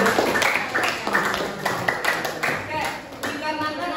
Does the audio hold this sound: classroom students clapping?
yes